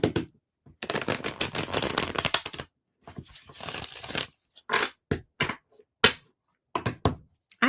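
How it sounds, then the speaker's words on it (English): Tarot cards are riffled and shuffled by hand in two long rapid bursts of dense papery flutter, followed by a series of short separate card taps and snaps, close and clear in a quiet room. "I need to shuffle again."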